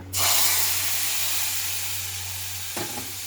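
A sharp burst of sizzling as asafoetida, mustard seeds and curry leaves hit hot oil, settling into a steady hiss with a brief crackle near the end.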